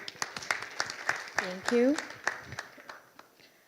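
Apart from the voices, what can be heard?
round of applause for a speaker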